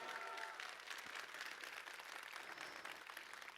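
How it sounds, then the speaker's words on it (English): A crowd applauds at the E3 2019 AMD gaming event, dense clapping filling a large room steadily from start to finish, with faint voices mixed in. "let's give him a big round of applause"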